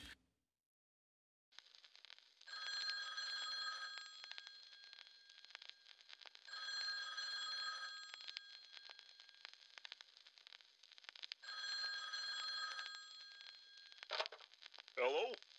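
A telephone rings in repeated bursts with pauses between them, faint and thin, with a brief voice near the end.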